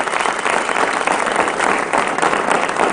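A television studio audience applauds during a CNBC talk show with Dennis Miller, the clapping loud, dense and steady throughout, with no talk over it.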